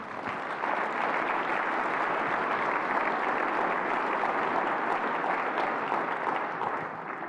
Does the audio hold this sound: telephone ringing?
no